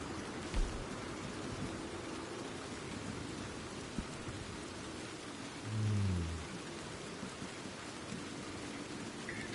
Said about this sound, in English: Oh, good, nice, thick, steady rain to further add to the broadcast credibility and enjoyment by the viewer.